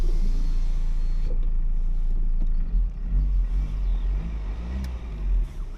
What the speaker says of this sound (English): That's the diesel sound